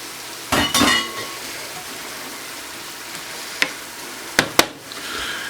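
Reduced clam juice hits a hot pan of crawfish with a short loud sizzle. Steady frying hiss follows, broken by a few sharp clinks of a utensil against the pan.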